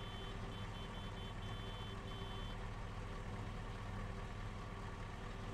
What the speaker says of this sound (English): Let's give her some beeps.